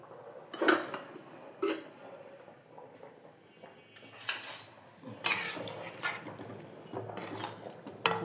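A lid set down over a pan of fish simmering in a little water on a gas stove, heard as a few sharp metallic clinks and clatters of cookware at close range, with no talking.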